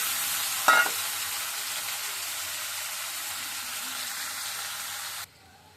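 Potatoes fry in hot oil with bay leaf, ginger and garlic, making a dense, even sizzle. A brief clunk comes near the start, and the sizzle stops abruptly near the end.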